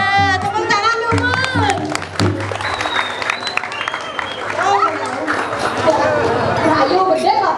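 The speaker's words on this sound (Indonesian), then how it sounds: "ada tepuk tangan dulu" An audience claps at a Balinese prembon performance at Pura Hyang Api, a dense ragged burst of applause near the stage mixed with crowd noise and voices, with people talking and calling out over it.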